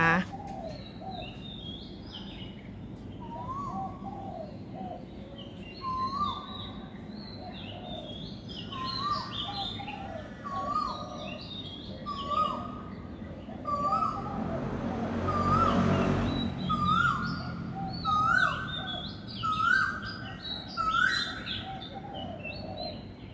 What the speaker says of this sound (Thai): ก็จะมีเสียงนกกาเหว่า เสียงกาเสียงนกเขาเนาะค่ะ